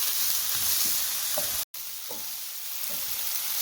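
Garlic and ginger paste frying with onions in a pan while cooking a Kerala-style shrimp roast: a steady close sizzle with soft stirring scrapes and a brief cut-out in the middle.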